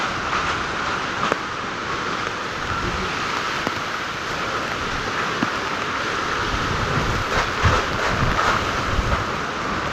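Strong floodwater rushes past a house in a flooded neighborhood, a loud, continuous broadband roar with no break and occasional small splashes or knocks.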